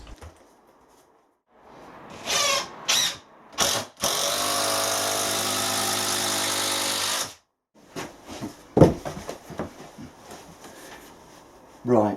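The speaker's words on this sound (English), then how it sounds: "as I'm screwing in these big carriage screws, I can tell that the frame is tightening up really nice" Big carriage screws are driven into a wooden door frame, heard as a loud, steady whirring drive of a few seconds between shorter bursts, with a person talking at the start and after.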